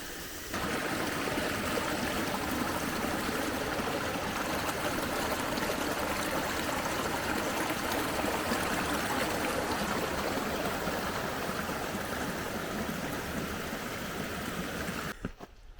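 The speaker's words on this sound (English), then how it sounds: "And a waterfall to boot." A Vermont waterfall rushing steadily at close range, a loud, continuous broadband roar of falling water that holds level throughout with no voices.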